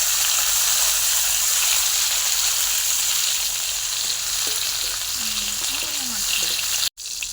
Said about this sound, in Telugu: ఇప్పుడు కిస్మిస్ వేసి వేయించుకుందాం